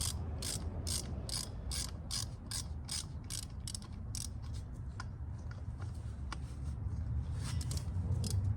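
A socket wrench ratchets on a nut while a 383 RB V8 is pulled from a 1959 Chrysler Golden Lion with push-button transmission, giving repeated bursts of rapid, close metallic clicking with short pauses between strokes.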